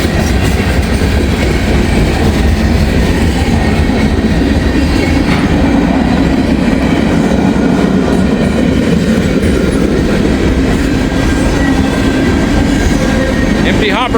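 Freight train of empty hopper cars rolling past, loud and close with continuous rumbling, rhythmic clickety-clack of wheels over rail joints and occasional high metallic squeals, sustained throughout.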